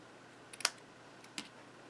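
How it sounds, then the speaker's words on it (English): Scissors snip the end of a paper piece at an angle while making a Stampin' Up! friendship card, giving a few quiet, crisp clicks close by, with a sharper cut in the middle and a softer one after it in a quiet room. "we're going to snip this end here at an angle"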